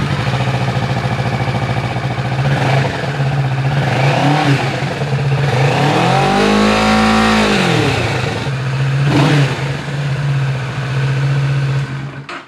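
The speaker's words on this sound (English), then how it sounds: "this is what the bike sounds like beforehand with the stock exhaust" Kawasaki Ninja 650 motorcycle on its stock exhaust idles with a steady low hum, then revs in a smooth rising and falling sweep near the middle of the clip before settling back to idle, heard close and loud with no talk.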